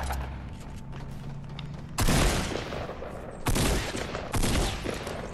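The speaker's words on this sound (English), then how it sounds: "I hear gunshots." Rapid bursts of gunfire from a Fortnite match, with loud volleys starting at about two seconds and two more around three and a half and four and a half seconds over a constant game background.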